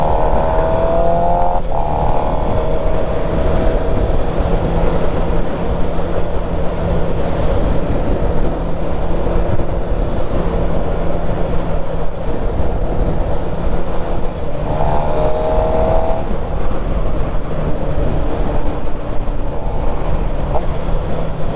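A motorcycle is ridden on cold tires, its engine droning steadily and loudly under heavy wind rush for the whole stretch, with occasional rising revs.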